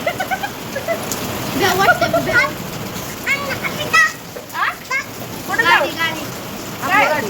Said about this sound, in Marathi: पाऊस चालू झालाय पटापटा